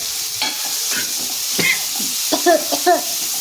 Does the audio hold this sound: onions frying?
yes